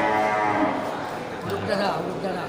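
A male water buffalo lets out a low, drawn-out moo nearby at a livestock sale, with some background chatter from people around.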